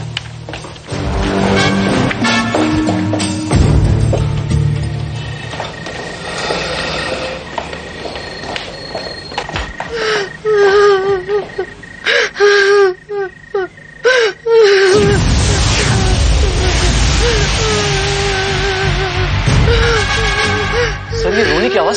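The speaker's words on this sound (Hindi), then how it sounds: "सर, ये रोने की आवाज कहां से आ रही है?" Someone crying inside a bungalow in a crime drama: sustained gasping sobs and whimpering wails, loud and close, with tense background music and some voices.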